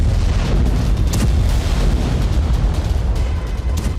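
Loud, continuous rumbling blasts from explosions in Iranian cities during an Israeli attack, a dense low roar with several sharper bursts standing out.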